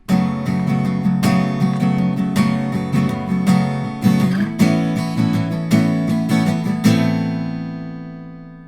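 An acoustic guitar plays chords from a song, a steady rhythmic strumming pattern up close, ending on a final chord left to ring out and fade.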